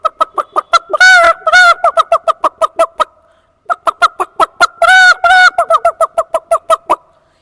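A voice imitates chickens pecking at grain, making rapid, rhythmic clucking pecks in quick bursts, with two short stretches of drawn-out squawking mixed in, loud and close, pausing briefly midway.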